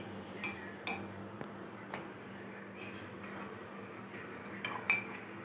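Metal spoons clink against a pot and glass as Complan powder goes into heating milk, a few sharp light taps spread over several seconds above a low steady kitchen hum.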